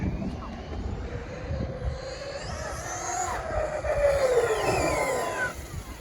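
Redcat Kaiju RC truck on a 6S battery driving around a large parking lot, its electric motor giving a steady whine that rises and falls with throttle, moderately loud and continuous against outdoor background noise.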